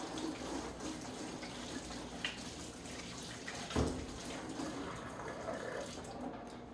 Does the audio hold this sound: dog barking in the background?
no